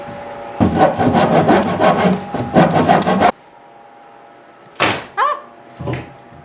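A saw cutting through an existing wooden stud in a shed being converted to a workshop, two loud stretches of rough rasping strokes up close, followed by quiet and a few scraping knocks.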